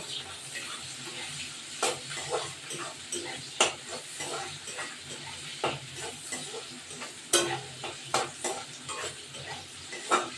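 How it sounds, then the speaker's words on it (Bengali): Onions frying in a pan for a chicken kosha curry, a low sizzle punctuated by regular stirring scrapes and knocks of a spatula against the pan. "এবার পেঁয়াজটা ভাজা ভাজা হবে"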